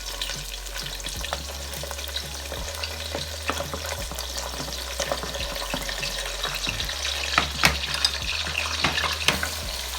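Onions frying in a pan for duck stew, a steady close sizzle broken by frequent scraping stirs and light clatters of utensils against the pan, with no talking.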